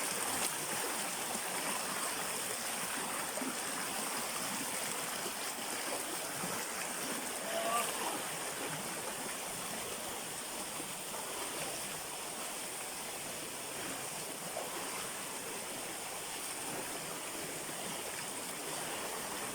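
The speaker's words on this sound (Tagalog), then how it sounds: "Umulan kasi kagabi kaya kaya siguro malakas ang tubig ilog." A river running strong after overnight rain gives a steady, moderately faint rush of flowing water that continues without a break, with no voices over it.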